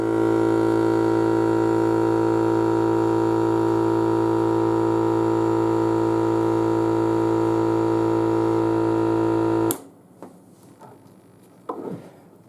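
A FoodSaver vacuum sealer pumps air out of a jar with a loud, steady motor hum that runs unbroken for about ten seconds, then cuts off abruptly and leaves faint handling clicks.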